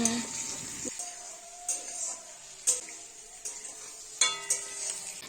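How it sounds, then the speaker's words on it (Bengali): Onion and capsicum fry in a pan for chili chicken, giving a soft, steady sizzle broken by sharp clinks of a spatula stirring against the pan every second or so, with a voice speaking over it. "তারপরে পেঁয়াজ দিয়েছিলাম পেঁয়াজটা মোটামুটি 30 সেকেন্ড বা এক মিনিট ভেজে তারপরে কিন্তু ক্যাপসিকাম দিয়ে দিয়েছি"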